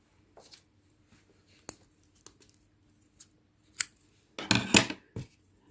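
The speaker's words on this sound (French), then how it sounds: "je vais couper le fil" Scissors snipping crochet yarn while making an amigurumi Santa, sleigh and reindeer, a few short, separate snips spread over several seconds, with a denser burst of cutting near the end, close and fairly quiet with no talk.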